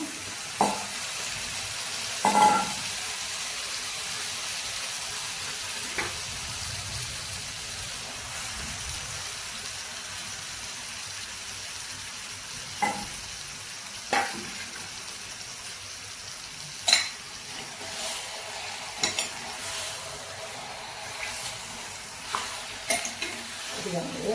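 Mutton pieces fry with onions in a pan for mutton curry, a continuous close sizzle punctuated by irregular sharp stirring scrapes and clinks, no speech.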